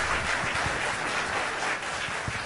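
Applause from the audience at a school board meeting, a steady and moderately loud patter of many hands clapping. It sounds like a room full of people and continues evenly without a clear end.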